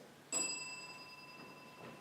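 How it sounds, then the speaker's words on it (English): A single bell strike rung by judges at a 2019 school spelling bee, a sharp bright ding that rings out and slowly fades in a quiet room. "your judges will ring the bell"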